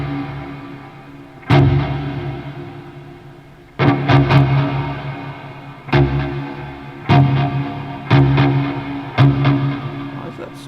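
An electric guitar through an Earthquaker Devices Ledges reverb pedal with added delay plays strummed chords that ring out and trail off into echoing tails, each strike followed by a lingering decay, with no one talking.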